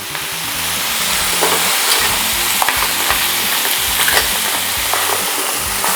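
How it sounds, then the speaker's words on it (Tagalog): Crab and onions fry hard in a pan for a chili garlic crab and shrimp dish, a steady loud sizzle broken by a rhythm of scraping stirs and clatters throughout, with no talk. "halu-haluin din natin para hindi masunog yung mga sibuyas"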